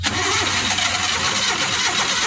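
A Suzuki F6A engine in a Multicab with a carburetor fault is cranked in a start attempt, a steady loud mechanical churning over a low rumble that runs without a break for a couple of seconds.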